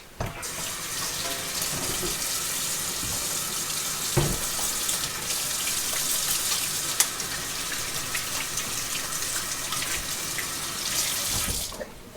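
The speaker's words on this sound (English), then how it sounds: "I'm going to rinse off my hands" Running tap water pours steadily into a kitchen sink as hands are rinsed under it, a close, continuous splashing hiss that carries on alone for about twelve seconds before the tap shuts off.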